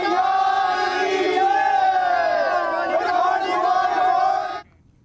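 A dense festival crowd at the Bagwal fair in Devidhura, Champawat roars and shouts continuously at close range, a loud mass of overlapping voices that cuts off abruptly near the end.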